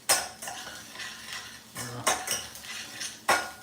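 Utensil scraping and clinking against a pan while blueberries and sugar are stirred, several distinct strokes with a faint sizzle underneath.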